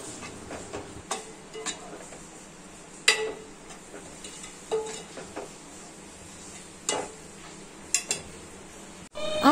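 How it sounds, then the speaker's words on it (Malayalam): Unniyappam batter with black sesame being mixed in a bowl for a Kerala Vishu snack: irregular spoon clinks and soft wet stirring scrapes, close and fairly quiet, with a sharper knock near the end and no talking. "അതിനുശേഷം എല്ലാം കൂടി നമുക്ക് നന്നായിട്ട് മിക്സ് ചെയ്യാം"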